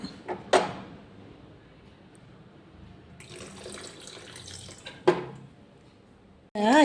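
Water is strained off boiled mussels in a kitchen, with a few sharp splashes and clatters over a soft trickle, then a brief louder burst at the end.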